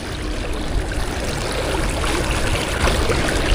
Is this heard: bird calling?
no